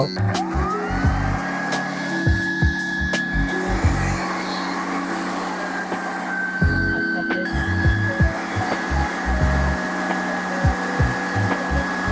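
A hair dryer blows at a barber shop, its steady whine starting and stopping repeatedly in bursts, loud and close, with low rumbling handling noise between cycles.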